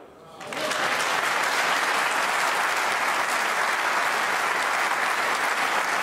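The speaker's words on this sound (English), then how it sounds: "he's certainly got a terrific round of applause for that shot from this crowd" Snooker crowd at the 2019 UK Championship breaking into a loud, sustained round of applause after a shot, starting suddenly and holding steady throughout.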